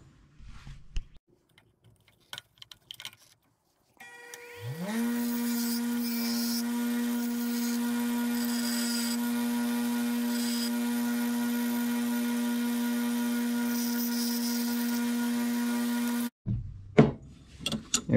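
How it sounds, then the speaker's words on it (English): A power tool grinding flat the faces of jeweler's stamps made from scrap metal: a motor spins up, then holds a steady, loud, high whine for about eleven seconds before cutting off, with faint clatter before and after. "I'm going to flatten the face on these, and then we'll get to filing."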